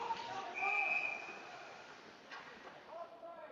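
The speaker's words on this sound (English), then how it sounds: "Get a whistle for offsides." A referee's whistle in a varsity boys hockey game against Neenah, sounding once as a sustained tone early in the clip over arena crowd noise and a commentator's voice.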